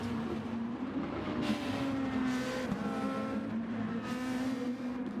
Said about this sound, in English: As we see, Blue is in a fight with Frog, and Lurb has backed it off and gone down to 5th